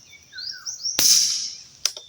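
A single sharp spring-and-piston thump from an air rifle dry fired at close range, followed by a brief metallic click, with faint birdsong before.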